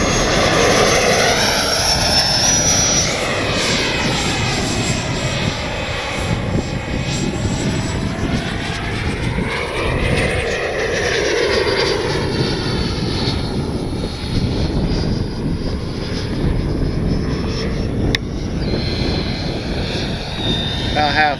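A Freewing 80mm F-5 Tiger 2 RC jet flies at about three-quarter throttle, its electric ducted fan giving a steady loud whine that sweeps up and down in pitch as it passes near and far.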